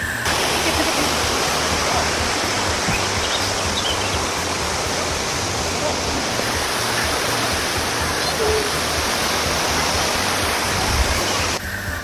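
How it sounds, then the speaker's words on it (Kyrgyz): Mountain waterfall near Baku, Azerbaijan, roaring as a loud, dense, continuous rush of falling water that fills the whole scene, with no birdsong standing out. "Керек болсо шаркыратманын үнү дагы ушунчалык сонун угулат,"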